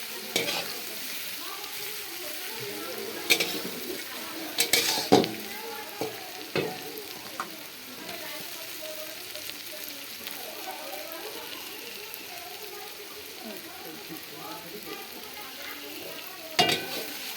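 Katla fish fries in a pan with a steady close sizzle, broken by occasional clinks and scrapes of stirring, while a voice talks faintly in the background.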